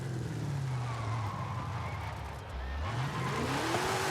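Car engine in Forza Horizon 5 rises in a sharp burst as the throttle is stabbed, a loud, close roar with a pitch dip and climb, continuous over a steady drone with tire noise.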